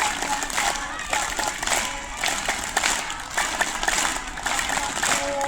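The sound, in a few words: students clapping in rhythm while counting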